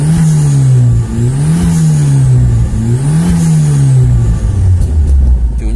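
A loud Myvi car engine revs up and down repeatedly, the pitch rising and falling in steady waves, close by with no talking.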